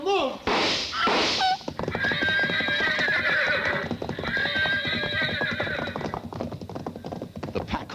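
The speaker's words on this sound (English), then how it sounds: "The pack horses reared at the shots." Pack horses neighing and whinnying in alarm as they rear, with loud hooves pounding and clattering beneath, close and chaotic, with voices mixed into the commotion.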